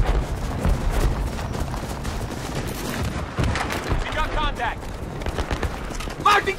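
Gunfire during a Battlefield 3 campaign battle, bursts of shots and booming impacts crackling through the scene while soldiers shout orders over the noise.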